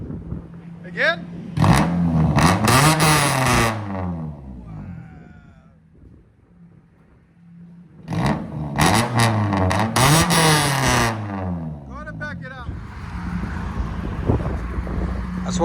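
A 1999 Honda Prelude fitted with headers and a straight pipe revs hard and loud in two long bursts, rasping up and down, with a quieter pause between them and wind buffeting at the end; voices talk over parts of it.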